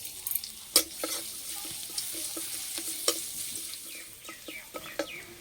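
Chopped garlic added to hot oil with fried cumin seeds in a pan; a soft sizzle runs throughout, broken by sharp clinks and scrapes of a spoon stirring at irregular intervals, close and moderate, no talk.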